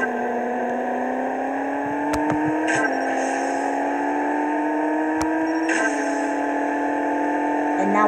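A Mini Cooper racing in the CSR Racing mobile game, with a steady engine drone rising in pitch through the gears and brief shift clicks, loud and continuous.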